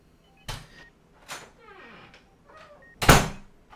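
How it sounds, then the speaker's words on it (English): An indoor door is opened with a sharp latch click and creak, followed by softer rattles and a louder thump as it swings, in a quiet room with no talking. "Wendy opens Betty's door."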